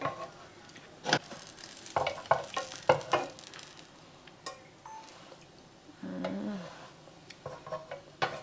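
A ham, egg and cheese sandwich frying in a pan, with a quiet sizzle under intermittent scrapes and taps of a spatula shifting and propping it up, close by, with a brief murmur of a voice near the end.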